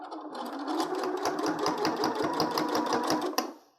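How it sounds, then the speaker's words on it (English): A sewing machine stitches along the edge of bias tape on a fabric face mask close by, its rapid mechanical rattle steady for a few seconds before stopping. "I'm just sewing right along the edge of my bias tape as I'm going."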